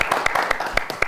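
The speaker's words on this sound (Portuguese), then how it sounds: "uma salva de palmas" A live audience claps for a brief burst, with scattered sharp hand claps in an uneven rhythm over a crowd murmur.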